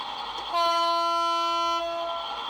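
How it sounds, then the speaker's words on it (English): A sustained, tonal horn from a Piko 52383 MAV M44 model locomotive blares for about a second and a half over a low rumbling background, then fades. "That's the horn."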